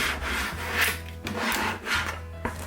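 A squeegee is pushed over vinyl on a bucket in repeated rhythmic strokes, a close scraping, rubbing sound about three passes long.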